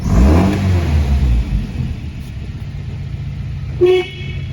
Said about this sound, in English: and the horn works.